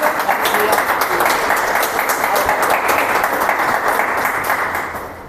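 Audience applause for a speaker at a forum, dense sustained clapping from a crowd that fades slightly toward the end, with a voice faintly underneath.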